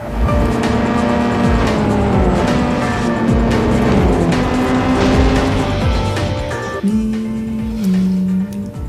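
Engine roar and rising, falling motor whine from the racing video game Real Racing 2 run steadily and loudly throughout, with occasional tyre squeals and shifting pitch as cars race.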